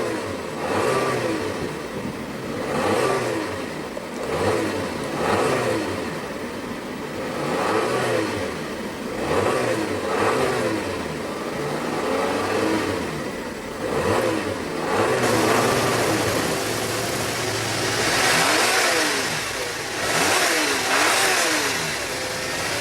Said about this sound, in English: let's go ahead and see what kind of engine note she makes